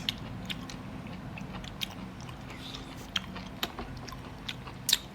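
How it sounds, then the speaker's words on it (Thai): Close crunchy biting and chewing of crisp Isan food such as laab with fresh vegetables, with sharp crackles over a steady soft mouth noise and faint background murmur. "กรอบเยอะนะครับ"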